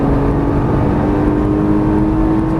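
A Nissan GT-R accelerates on a race track at Exotics Racing, a loud, close, continuous engine drone with a steady tonal whine, heard from inside the car with no talk.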